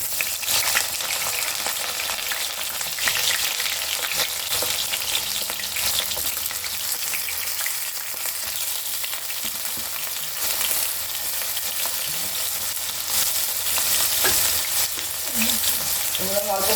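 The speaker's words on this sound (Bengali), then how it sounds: "এবার আমি এতে বেগুনগুলো ভেজে নেবো এই তেলেই।" Eggplant pieces frying in hot oil already used for frying lentil dumplings, a dense continuous close sizzle with occasional stirring, steady and loud, no talking.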